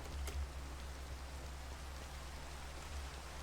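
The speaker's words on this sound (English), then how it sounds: "It's the middle of the day, but it's raining." Steady rainfall in Minecraft during daytime: an even, soft hiss of rain with no speech, staying level throughout.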